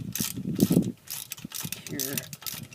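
A heavily rounded 1/4 inch Allen head retaining bolt is loosened on a Dana 60 hub. A ratchet gives close, uneven metallic clicks and rasps, with brief mechanical scraping and rattling in between.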